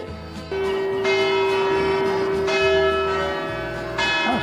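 Church bells ring from a bell tower in Venice, sustained overlapping metallic tones with fresh strikes every second or so, loud and resonant across the open city air, with no talking over them.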